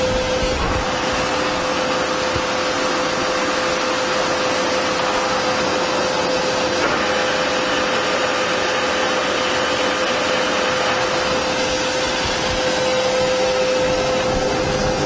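A Harrison M400 lathe with a 2.2 m bed runs steadily in its 63 RPM gear, giving a continuous broadband machine whir with a constant pitched whine throughout, close and loud, with no speech.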